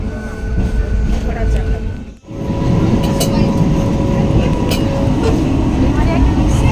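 A passenger train runs steadily, heard from inside a carriage, with a loud continuous rumble and rattle after a brief dip, and people talking over it.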